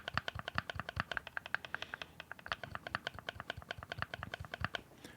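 Rapid, even clicking and tapping as the Hall effect analog triggers on a budget Mojhon Aether PC controller are pressed over and over, a close, dry, quiet patter with no talking.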